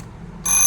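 An alarm clock starts ringing abruptly partway through, a loud, steady electronic tone after a quieter moment.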